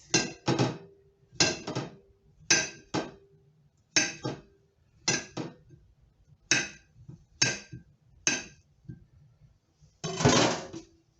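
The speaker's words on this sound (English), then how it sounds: "I'm going to cut this banana into slices" A knife slices through a banana on a cutting board, giving about ten sharp, evenly spaced chops that knock against the board. The sounds are close, with quiet gaps between strokes and no talking.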